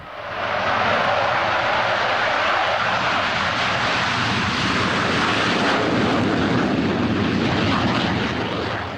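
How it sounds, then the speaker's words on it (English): An ex-Singapore Air Force Hawker Hunter jet fighter flies past at the 2003 Australian International Airshow, its engine a loud continuous broadband roar that swells and holds throughout. "From the same stable as the Hawk, a good-looking jet fighter, the Hawker Hunter"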